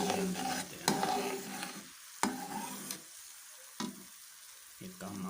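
Eggs poured into a tomato masala for egg bhurji, sizzling over low heat while a spoon stirs and scrapes the pan in several distinct strokes, close and moderately loud.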